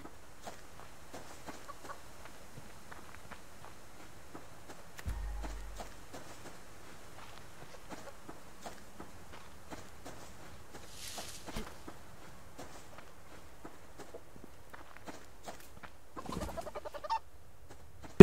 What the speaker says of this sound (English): Another chicken or two, so let's see if we can capture this one.